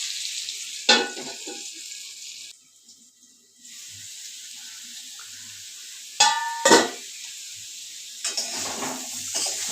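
Potatoes frying in oil in a pot, with hissing sizzle that rises in bursts as they are stirred, then drops to quiet gaps in between.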